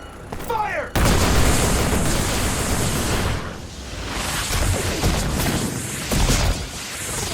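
Booming gunfire and explosions roar continuously through a Scarlet Nexus video game cutscene, a dense, loud barrage that swells after a brief quieter opening and stays heavy throughout, with voices briefly audible beneath it.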